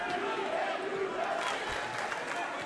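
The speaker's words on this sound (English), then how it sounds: "The crowd comes alive with the defense chant." A high school boys' basketball crowd in a gym chants for defense in a rhythmic, rising and falling roar of many voices, fairly loud and reverberant throughout.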